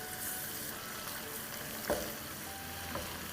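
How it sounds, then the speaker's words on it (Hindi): Ginger, garlic and onion pastes fry with garam masala in a pan, giving a steady, soft sizzle throughout with a couple of faint stirring scrapes, no voices. "तो यहाँ जिंजर गार्लिक और प्याज हमारी फ्राई हो रही है गरम मसाले के साथ"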